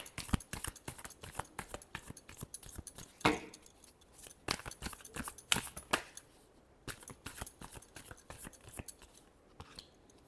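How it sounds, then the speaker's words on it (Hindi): Tarot cards shuffled by hand in a rapid rippling flutter of close, crisp card snaps, with brief pauses and a couple of louder riffles, no voices. "last shuffle"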